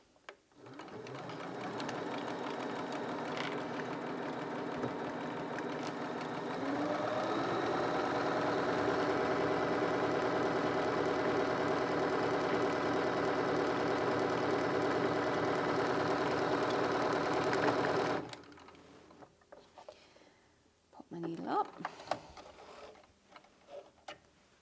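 A Bernina 325 sewing machine runs a triple straight stitch on jersey knit from an old t-shirt, a steady close mechanical whir with rhythmic needle ticking for about eighteen seconds, then stopping, followed by faint handling noises.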